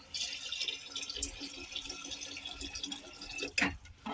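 Water pours and splashes into a cooking pot of spiced bean curry with a steady rushing sound, ending in a brief louder splash; no voices.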